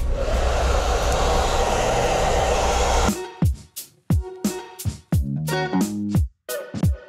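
A hair dryer blows loose cut hair off a client at a barbershop after a men's fade haircut, a steady loud whoosh for about three seconds that then cuts off, followed by sharp clicks and knocks.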